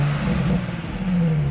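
A lowered Nissan 350Z driving past and revving, a loud, steady engine drone that rises slightly in pitch over a second and a half, with no voices.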